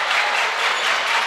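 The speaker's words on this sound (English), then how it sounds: "Donette student section on their feet over there, doing a lot of clapping and hollering" A student section at a high school girls' basketball game claps and hollers, a dense, even wash of crowd applause filling the gym for the whole moment.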